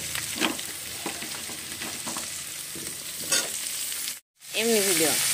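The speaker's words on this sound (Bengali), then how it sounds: "এবার আমি মূলো কটা দিয়ে দিই" Radish pieces frying with pointed gourd in a pan give a steady close sizzle with scraping stir strokes for about four seconds, then a brief silence before a short burst of talk over continued sizzling.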